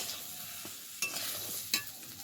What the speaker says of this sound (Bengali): এবার সব কিছুকে খুব ভালোভাবে কষাবো